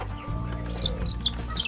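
A hen clucking in a poultry breeding setup, a quick run of short, close clucks over a low background murmur.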